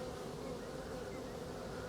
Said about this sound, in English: The mystery of the bee has captured my heart.